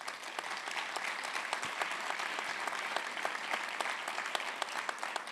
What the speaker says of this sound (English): I just want to take a moment to give you all applause